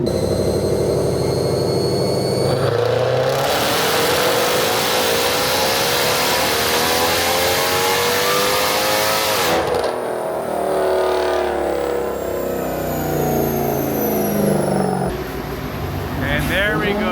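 Dodge Hellcat with a Formula Z exhaust pipe roars on a dyno, a loud sustained rev climbing steadily in pitch, then cutting off to idle and rising again briefly, with talking over parts of it.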